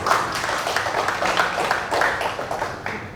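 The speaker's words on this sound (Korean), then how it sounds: "박수 쳐드리세요." Audience clapping at a lecture by a cooking researcher, a moderate burst of scattered hand claps from a seated crowd, uneven and pulsing, fading slightly toward the end.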